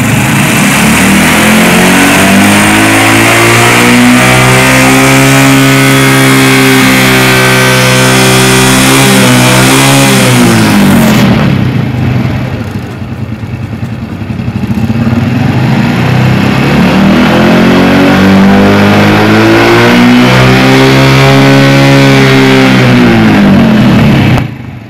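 Motorcycle engine revved hard at full throttle, a loud sustained roar whose pitch climbs, dips around the middle, then climbs again, with no one talking.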